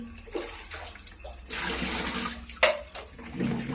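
Water splashes and pours over an air cooler being rinsed clean at home, an uneven gush with surges and a sharp splash near the end, close by.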